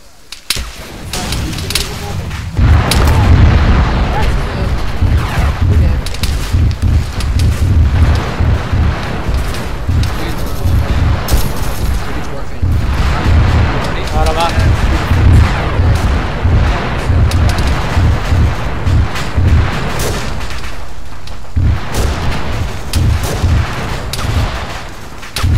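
Heavy gunfire in a military video game, dense repeated booming shots and blasts running almost without pause over a low rumbling battle din, loud and close throughout.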